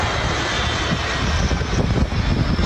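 A fixed-wing airplane, replayed from a clip of a plane catching fire in Texas, roars steadily as a broad engine rumble with a slight swell toward the end.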